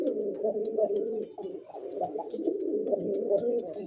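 Many pigeons of fancy breeds such as Lahori, kokka, raj-golla and giribaz coo at a pigeon market in Rajshahi, a close, continuous, overlapping low cooing with faint higher chirps.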